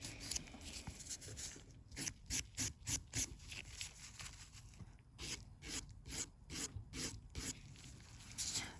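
Quiet, close rhythmic rasping of a nail file scraping fake nail product off a natural nail, short strokes repeating in quick bursts with brief pauses.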